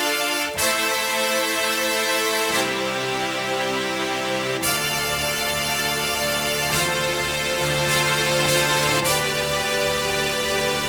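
Octave brass layered with chamber strings from the KORG Module app on an iPad plays sustained chords, loud and full, with several distinct chord changes across about eleven seconds and no talking.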